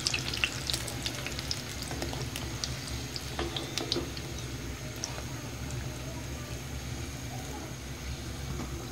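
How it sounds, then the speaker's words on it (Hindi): Potli samosas deep frying in hot oil, a steady dense sizzle and crackle throughout, close and fairly loud, with a few clinks from a utensil near the start and no talking. "इसी तरीके से हम और फ्राई कर लेंगे।"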